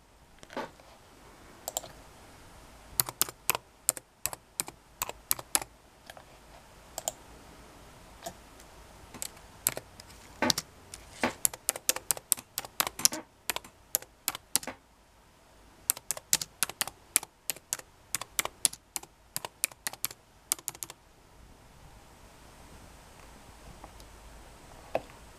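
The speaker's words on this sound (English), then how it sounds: "I will go on my computer and type in a journal using Notepad." Typing on a computer keyboard while writing a journal in Notepad: bursts of crisp key clicks, quick runs separated by short pauses, fairly close and alone in a quiet room.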